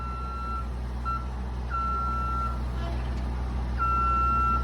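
A manlift being driven slowly, its motion alarm sounding several sustained high electronic beeps with gaps between them over a steady low machine hum.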